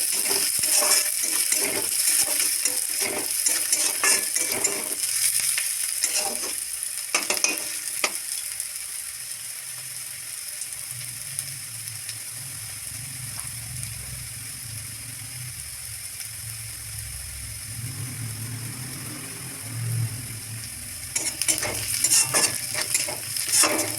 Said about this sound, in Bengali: ভালোভাবে ভাজা ভাজা হয়ে গেছে আদা রসুন